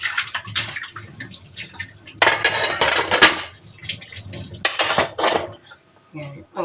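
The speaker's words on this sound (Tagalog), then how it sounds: "Takpan natin. Para maluto maigi." A lid goes onto a cooking pot, with several sharp metallic clanks and rattles in irregular bursts, mixed with light watery kitchen sounds between them.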